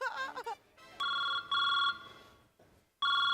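A mobile phone ringtone plays repeating bursts of bright electronic tones with short gaps between them, fairly loud and close, after a brief bit of voice at the start.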